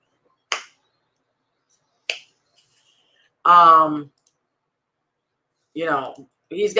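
A person claps by hand, giving a couple of sharp, isolated claps spaced well apart in a quiet room, with speech following between them.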